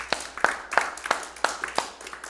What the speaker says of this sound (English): Give him a hand clap tonight.